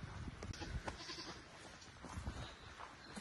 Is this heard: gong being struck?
no